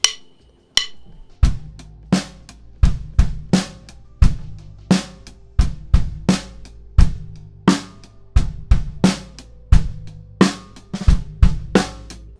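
A drum kit plays a groove after a practice pad is taken off the snare, with sharp hits repeating steadily in a clear rhythmic pattern, loud and close with no talking.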